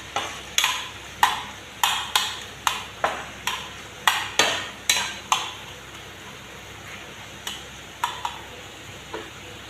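A spoon knocks and scrapes against a pan while starfruit chutney is stirred after sugar is added, giving a steady run of about fifteen sharp metallic taps, close and fairly loud, with no talking.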